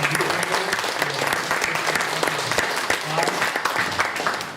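An audience applauds in a state senate chamber, dense steady clapping from many hands filling the room, loud and continuous throughout.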